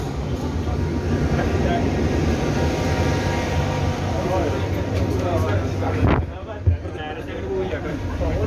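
Loud, steady rumble of an underground metro train in motion in Qatar, with a low hum throughout and a sharp screech near the end.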